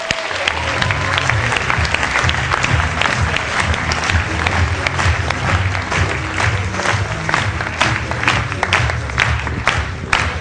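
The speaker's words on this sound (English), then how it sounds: "Please give her a huge round of applause for Miss Carly Crutchfield." Loud, sustained applause from a seminar audience welcoming a presenter, dense clapping that fills the room evenly from start to finish with a low crowd murmur beneath.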